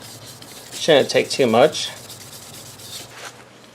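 Wet sandpaper rubs across the plastic headlight lens of a 2001 Lexus IS300 in short, close scrubbing strokes, with someone speaking briefly over the rubbing.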